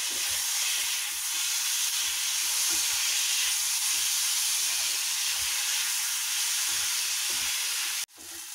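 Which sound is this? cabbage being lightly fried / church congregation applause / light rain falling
cabbage being lightly fried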